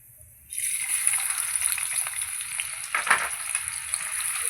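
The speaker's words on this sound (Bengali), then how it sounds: "তেল গরম হয়ে গেছে দিয়ে দেবো পেঁয়াজ কুচি" Chopped onions drop into hot oil in a kadai and set off a sudden loud sizzle after a brief quiet moment, then keep frying with a steady close hiss and a burst of stirring near the end.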